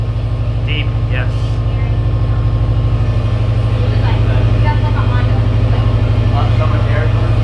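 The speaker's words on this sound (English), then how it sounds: "So now it's deep exhaust now." Car exhaust with a burble tune and a new downpipe idles with a deep, loud, steady rumble, and people talk over it.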